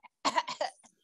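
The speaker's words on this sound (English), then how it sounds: "I'm coughing" A woman gives a single close, dry cough of several quick bursts within about a second, isolated and near with silence around it.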